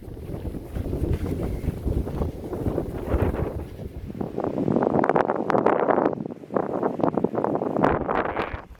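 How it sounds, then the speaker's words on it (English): Strong desert-floor wind on the Pacific Crest Trail buffets the microphone in loud, roaring gusts, rising and falling throughout with no voices. "No idea if you can hear me, because it is insanely windy."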